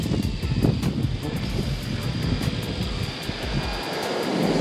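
A tuna-fishing drone on the Big Island of Hawaii starts up, its propellers whirring in a sustained, close buzzing drone with faint voices in the background.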